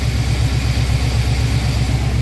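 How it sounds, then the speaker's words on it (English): Work truck engine idling smoothly, a steady low rumble with an even pulsing rhythm and no misses, close and loud with no talk over it. "That engine is running nice and smooth."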